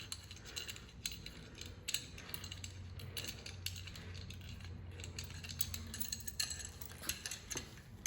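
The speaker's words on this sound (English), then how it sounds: "19mm socket and tighten it up." A ratchet with a 19mm socket tightening the bolts on a CanPump electric pressure washer: a steady run of small mechanical clicks at close range, fairly quiet, with no talk.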